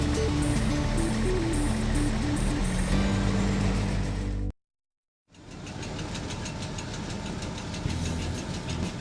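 A sugar beet truck's diesel engine idles and knocks loudly near a beet piler, cutting out briefly partway through before the rumbling returns steady.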